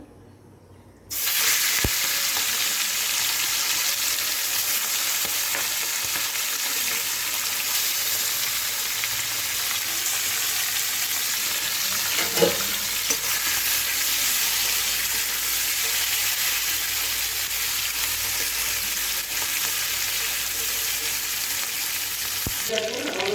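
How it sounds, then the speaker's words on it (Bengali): Fish fries lightly in a pan: a strong, continuous sizzle starts abruptly after a second and holds steady for over twenty seconds, with an occasional stir or knock near the middle and no talking. "তো আমি আগে মাছগুলো ভেজে নিই, হালকা করে ভাজতে হবে"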